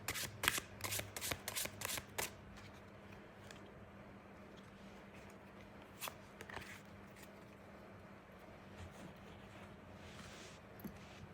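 A quick run of crisp riffling shuffles of a card deck at the start, then quiet with a few soft handling sounds.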